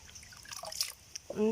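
Water drips and splashes as split gill mushrooms are rinsed for a beef curry, in small, irregular trickles close by, with someone talking over it.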